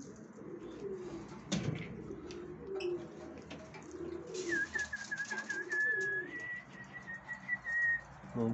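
Pigeons in a loft coo softly in low rolling calls, with a thin whistling tone rising in the second half; fairly faint and close, no talk.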